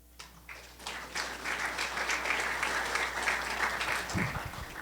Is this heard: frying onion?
no